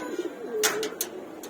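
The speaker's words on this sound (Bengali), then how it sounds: "অনেক ভালো কবুতর, অনেক আপডেট কবুতর।" Pigeons in a loft give a soft, close coo that swells and falls over about a second, with a few brief sharp flutters or clicks breaking through near the end.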